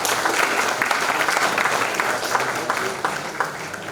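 An audience applauding at a formal New Year's greetings gathering for village chiefs and youth associations in Côte d'Ivoire, steady dense clapping from a large crowd that fades slightly toward the end.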